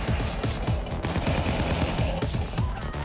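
Gunfire in the video game Payday 2, a dense and continuous barrage of overlapping shots, loud and close, filling the whole stretch without pause.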